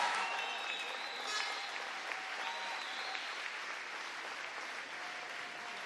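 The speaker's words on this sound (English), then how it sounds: "Everybody, a huge cheer for our gold medalist" A swimming championship crowd in an indoor arena cheers and applauds a gold medalist, sustained clapping mixed with whistles and shouts that holds steady throughout at a loud, even level.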